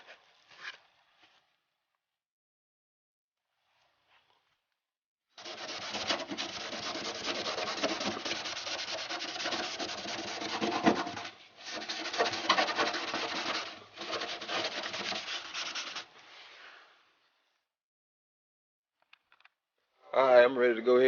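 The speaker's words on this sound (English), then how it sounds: "I'm gonna do that with some Scotch-Brite." A maroon Scotch-Brite pad is rubbed hard over the car body of a Chevy Caprice box-body project, giving a close, steady scratchy scuffing in long strokes with brief pauses, then quiet; talk is heard briefly at the end.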